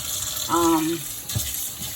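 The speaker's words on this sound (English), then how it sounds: "I'm gonna run some cold water on it" Cold tap water runs over freshly strained pasta in a kitchen sink, a steady hissing gush with a brief tonal whine partway through.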